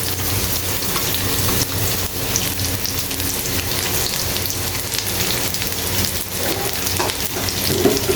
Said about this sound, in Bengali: সে পেঁয়াজগুলো আমি খুব ভালো মতো করে বেরেস্তা করে নিচ্ছি